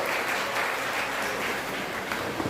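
Steady, dense applause from a kavi sammelan audience in Sitapur, honouring the poets, filling the whole stretch at an even level with no voices on top.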